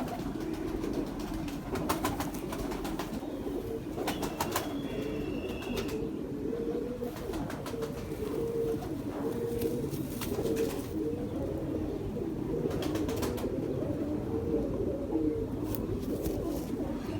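Soft, repeated pigeon cooing in low murmuring phrases, continuous and moderately close, with faint outdoor background noise.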